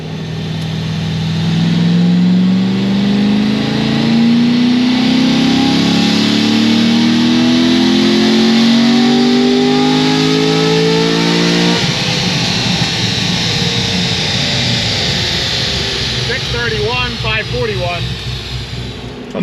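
A car with new heads and cam revs hard on a dyno, its engine note climbing steadily under full load for about ten seconds before the throttle lifts and it drops to a rough, burbling decel, loud and close.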